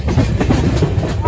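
Kolkata to Darjeeling passenger train running on rails near Kishanganj in Bihar, a steady loud low rumble with faint rhythmic clatter of wheels over track joints, no voices.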